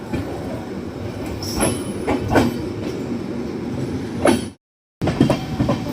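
A Garib Rath express train pulls out of Narkatiaganj station with rumbling wheels, rhythmic clicks over rail joints and a few sharp squeals from on board, interrupted by a brief dropout before the rolling noise resumes.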